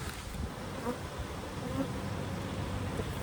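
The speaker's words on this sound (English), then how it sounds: "Box of bees." Bees buzz in a dense, continuous drone inside an open hive box during a beekeeping inspection, a close steady swarm sound with no pauses and no speech.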